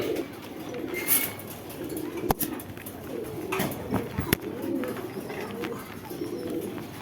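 Pakistani Giribaz pigeons in cages at a pigeon market coo softly amid steady background bustle, with a couple of sharp clicks and knocks breaking through.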